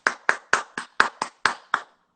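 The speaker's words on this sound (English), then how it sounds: "just start clapping." Eight crisp hand claps in a steady, quick rhythm, evenly spaced and close, followed by silence.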